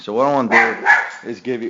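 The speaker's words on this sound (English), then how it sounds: "excuse me, that's my dog." A pet dog barks and yips in short bursts close by, cutting through and alternating with someone speaking steadily over it.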